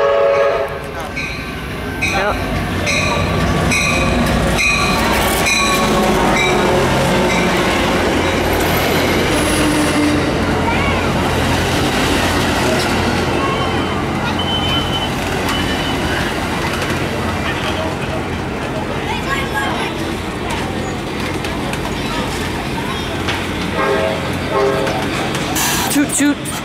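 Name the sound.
Amtrak San Joaquins passenger train arriving at station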